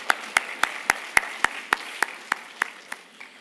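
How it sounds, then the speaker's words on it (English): Evenly paced claps at a ministerial forum opening ceremony, about a dozen sharp strikes in a steady rhythm, fairly close and clear over a quiet background. "Let's give them a round of applause."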